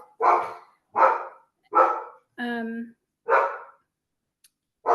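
A dog barks loudly and close by, about five sharp, separate barks with one drawn-out, whining bark among them, and nothing else is heard.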